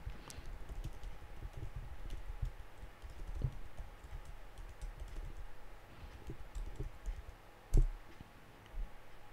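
Someone types on a computer keyboard, entering a terminal command on a Windows PC. Soft, rapid keystrokes run steadily throughout, and a couple of louder presses near the end sound like the Enter key.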